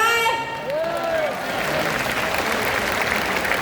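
Steady applause from a crowd fills the whole stretch, dense and continuous, with a few voices mixed in under the clapping.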